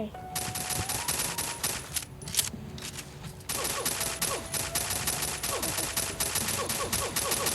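Rapid bursts of automatic gunfire from a Minecraft Pocket Edition shooting game, dense and loud, with a brief lull before the shooting resumes.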